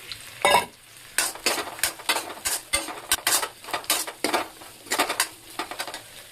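Sliced onions stir-fried with mushrooms in a hot pan for a chili mushroom dish, a spatula scraping and tossing in repeated bursts over a soft sizzle, close and fairly loud.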